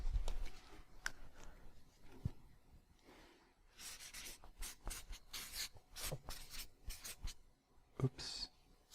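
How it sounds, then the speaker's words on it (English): Hand writing on paper: soft pen or pencil scratches come in short bursts and strokes, fairly close and quiet, with pauses between and faint room noise. "let me write this down"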